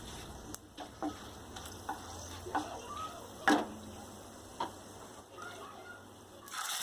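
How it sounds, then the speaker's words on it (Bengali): Whole spices (bay leaf, cinnamon, dried chilli, cardamom, cloves) fry gently in oil for a Kolkata-style chicken rezala, giving a soft steady sizzle with occasional light clicks and stirring taps, no talking. "দেন এটা একটু ফ্রাই করে নিতে হবে।"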